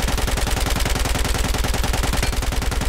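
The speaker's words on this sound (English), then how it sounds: "this is full auto mag dump" Full-auto magazine dump from a light machine gun in Battlefield 4: loud, rapid, evenly spaced gunfire running continuously without pause, no voices over it.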